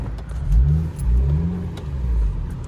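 An 8th gen Honda Civic Si with a stick shift and a Stage 2 clutch revs while driving, its engine swelling and dropping in a few loud low surges over a steady road rumble.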